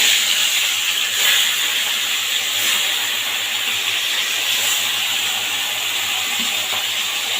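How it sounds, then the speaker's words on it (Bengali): Fish heads fry in hot oil in a kadai, giving a steady, loud, hissing sizzle that carries on without pause and without talk. "তেলের ওপরে দিয়ে দেবো মাছের মাথাগুলো।"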